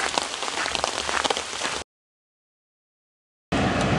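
Steady rain falling outdoors, a dense continuous patter on surfaces that cuts out briefly to silence and then resumes just as loud.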